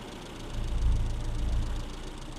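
A classic Mini engine idles steadily on a rolling road, a low, even rumble that swells slightly midway and holds consistent without voices.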